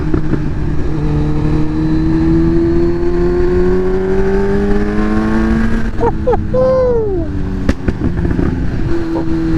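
A Kawasaki Z900 motorcycle on a cold start, loud and close, its engine revving up and falling back, then a cluster of sharp exhaust pops and crackles as the revs drop.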